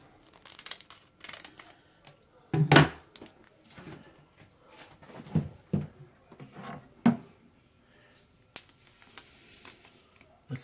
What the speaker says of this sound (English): So cut this bag of yeast open.